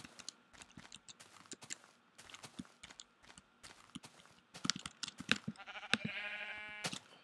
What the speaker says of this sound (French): Oh, un mouton.